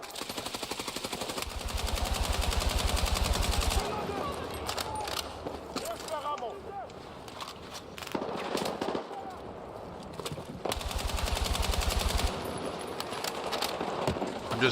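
Rapid automatic gunfire in the video game Battlefield 6 comes in two long, loud bursts separated by scattered shots and battle noise, while someone talks over the action.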